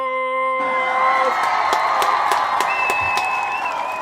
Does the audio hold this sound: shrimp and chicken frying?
no